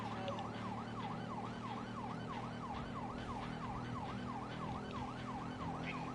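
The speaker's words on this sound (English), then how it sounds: "The good thing about having a stolen cop vehicle is those sirens just make people get out of your way." A stolen police car's wailing siren in GTA V, a fast repeating up-and-down sweep sounding loud and constant over the rumble of the driving car and road noise, with no voices.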